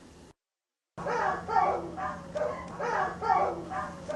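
A dog whines and moans in repeated rising, wavering cries, fairly close, with a steady low hum underneath and a brief silence near the start.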